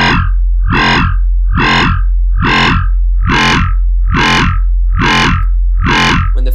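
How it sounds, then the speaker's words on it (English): A distorted synth bass made in Reason 7 plays eight evenly spaced notes, each gritty and buzzing with harsh feedback crunch like a saw wave. "We can add some distortion with the feedback."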